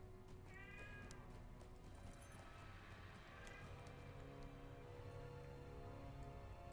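A person imitates a cat with repeated meowing, sad-sounding mewing calls that rise over steady background noise and murmur.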